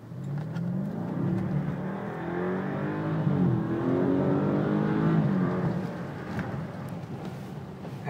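A BMW 650i pulls away hard from a traffic light, its engine climbing steadily through the revs with a deep, rising roar, loud and close from inside the car, with no talking.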